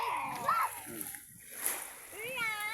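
Children splash in clear seawater while bathing, with short watery slaps and sloshes under the voices of kids nearby.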